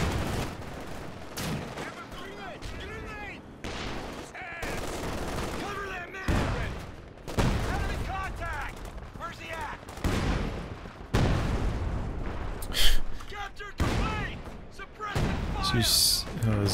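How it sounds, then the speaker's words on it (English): Artillery shells and small-arms fire burst repeatedly in a Company of Heroes 2 battle, a string of booms and crackling volleys that rise and fall beneath steady commentary. "There's this barrage there, not too successful."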